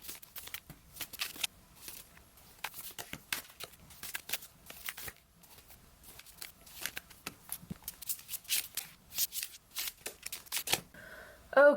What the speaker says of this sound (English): I'm going to lay these cards out and then we will get started